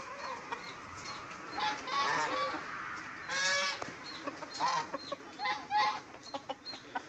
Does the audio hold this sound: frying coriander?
no